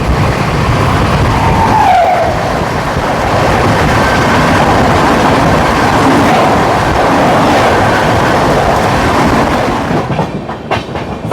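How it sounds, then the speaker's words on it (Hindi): A long-distance Indian passenger train, the Odisha Sampark Kranti on the Tatanagar–Delhi route near Ghaziabad, crosses the Sampoorna Kranti Express 12394. A loud, steady roaring rumble with rattling wheels runs close by for about ten seconds, then drops away. "दोस्तों हमारी क्रॉसिंग होने वाली है 12394 गरीबों की राजधानी, आम जनता की राजधानी, संपूर्ण क्रांति एक्सप्रेस के साथ।"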